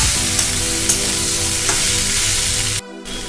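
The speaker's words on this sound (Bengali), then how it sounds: "গ্যাসটা লো ফ্লেমে আলু পোস্তটাকে পাঁচ মিনিট নাড়লাম" Boiled potatoes for aloo posto stirred in a little oil over a low flame, a steady close sizzle with a few soft spoon knocks before the sound cuts out abruptly near the end.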